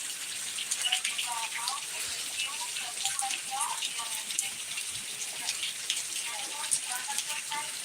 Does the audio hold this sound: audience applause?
no